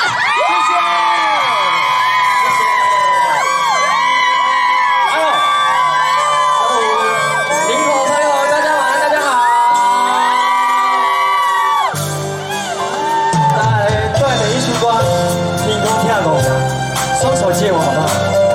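An outdoor concert crowd at a Taiwanese-language show in Linkou, New Taipei cheers and whoops for the singer with loud, pitched shouts. Band music then kicks in under the noise.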